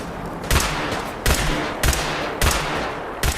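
Rapid bursts of gunfire in Fallout 4 aimed at tough butcher enemies: four loud volleys roughly every 0.6 seconds, each a sharp broadband crack over steady game ambience, with no talk.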